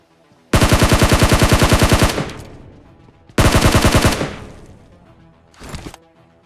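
Automatic weapon fire in the mobile battle royale game PUBG Mobile: two long, loud, rapid bursts of rhythmic shots, each close to two seconds long and ringing out afterward, then one short, softer burst at the end.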